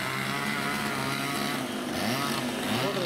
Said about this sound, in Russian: Братья колят, пилят.